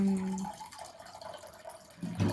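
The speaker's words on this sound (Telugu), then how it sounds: "ఇప్పుడు దీంట్లోకి వాటర్ వేయాలి" Water pours in short bursts into a pot of washed rice, with a splashing fill at the start and again at the end and a quieter trickle between, close by and with no talking.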